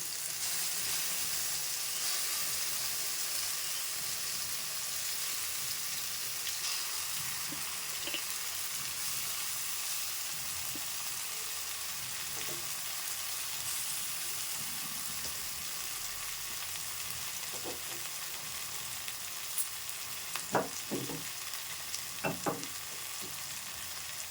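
Spinach purée poured into a fried mixture in a pan gives a steady, close sizzle and hiss, with a few clinks and stirring knocks near the end.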